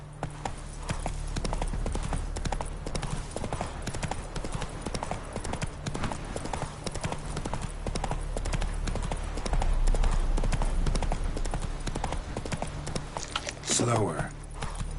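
Steady clip-clop of Geralt's horse Roach galloping in The Witcher 3 on PS5, hooves drumming continuously under game music and ambience, with spoken voices over it and a brief sharp sound near the end.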